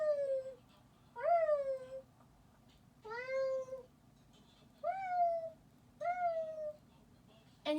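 A human voice imitates a cat's chortle with the mouth closed, producing a series of short, rising, meow-like hums spaced a second or so apart, close and fairly quiet.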